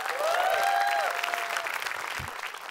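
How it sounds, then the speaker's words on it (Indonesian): A stand-up comedy audience in Indonesia claps briefly for the comedian. A short, fairly quiet burst of applause includes a single cheer near the start and thins out as it ends. "Tepuk, tangan, teh tepuk tangan buat stand up comedy Indonesia."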